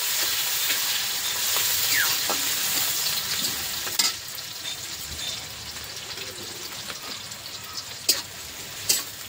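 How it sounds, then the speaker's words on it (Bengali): Onions fry for chicken dum biryani, giving a continuous crackling sizzle with steam hiss, occasional stirring sounds and a few sharp clicks and pops from the pan, steady and fairly close, with no voices. "এখন আমি পেঁয়াজটা ভেজে নেব"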